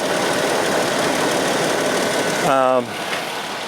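A 2006 Toyota Tacoma bought at auction idles with a steady, even engine drone that runs through the whole stretch, with a brief voice near the end.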